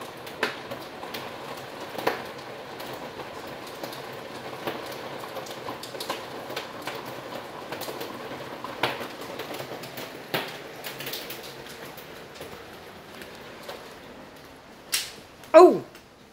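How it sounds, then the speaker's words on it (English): Hail pattering on a skylight during a storm, a steady, rain-like patter across the whole stretch with scattered sharper ticks and a couple of louder knocks near the end. "that's hail hitting the skylight."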